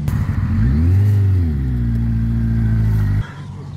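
A loud, close twin-turbo Honda CBR1100XX motorcycle engine revs up, its pitch rising and falling in one sustained surge before abruptly dropping back.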